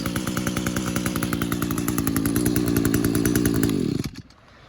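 An Echo string trimmer, one of a pair of free units and badly in need of a carburetor kit or tuning, runs loud and close with a steady two-stroke buzz, then cuts out abruptly near the end.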